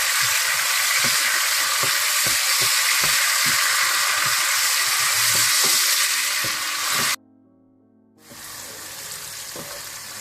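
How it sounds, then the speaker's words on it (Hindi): Tomatoes fry with browned onions for dhaba-style palak gosht, a loud, steady sizzle broken by scraping stir clicks, cutting out briefly near the end before hissing back up. "प्याजों को हल्का ब्राउन करने के बाद आप इसमें टमाटर डाल दें। इनको भी आप अच्छी तरह से भून लें।"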